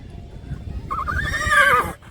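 A tall horse gives one loud, rising whinny lasting about a second, close by, over low rumbling background noise.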